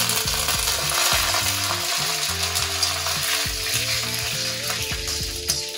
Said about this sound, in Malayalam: എണ്ണ ചൂടായിട്ടുണ്ട്, നമുക്ക് ഇതിലേക്ക് കടുക് ഇട്ട് കൊടുക്കാം